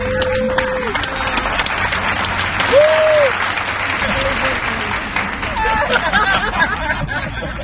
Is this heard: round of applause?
yes